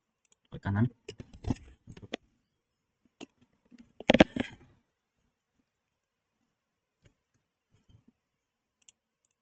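Computer mouse clicks in a software tutorial: a few sharp, close clicks scattered sparsely among short bursts of speech, the rest nearly silent.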